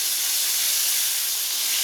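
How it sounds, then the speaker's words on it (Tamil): Popcorn chicken coated in a maida batter fries in hot oil with a loud, steady sizzling hiss that never lets up, heard close with no talking. "இந்த மைதா கலந்துருக்கனால இந்த ஆயில் வந்து இப்படி வெடிக்க தான் செய்யும்"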